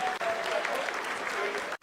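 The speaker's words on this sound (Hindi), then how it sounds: "आप तालियों के गड़गड़ाहट से सुन सकते हैं" Mission control staff at India's space agency applaud during the Chandrayaan-3 lunar descent, a dense, continuous burst of clapping with faint voices mixed underneath.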